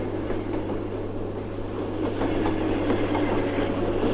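A train runs on the electrified railway linking Norilsk with the port of Dudinka, a steady rumbling roll with a low hum and faint rhythmic clatter that swells slightly toward the end.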